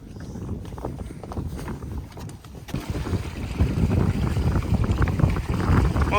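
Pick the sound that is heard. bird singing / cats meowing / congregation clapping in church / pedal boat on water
pedal boat on water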